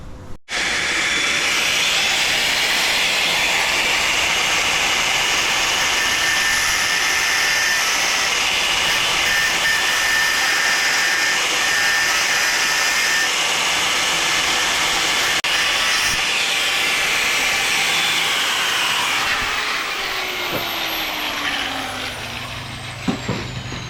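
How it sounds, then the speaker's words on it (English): A grinder steadily cuts off the rocker cover baffles on a restored barn-find engine, a continuous bright, hissing grind lasting over twenty seconds before trailing off. "so I'll grind them off and make it all fit up"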